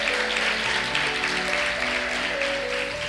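A church congregation applauds steadily throughout, a dense wash of clapping with a sustained musical tone underneath.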